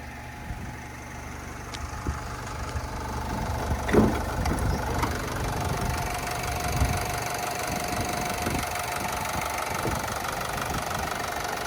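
A 2013 Opel Vivaro 2.0 diesel van engine idling with a steady low rumble and faint knocking clatter, running evenly throughout with a few small clicks nearby.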